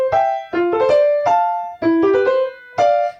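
Piano phrase from Kabalevsky's Scherzo, Op. 39 No. 12, played in short bursts with uneven, rushed semiquavers, four separate groups of bright repeated notes with brief gaps between them, close and clear, no talk.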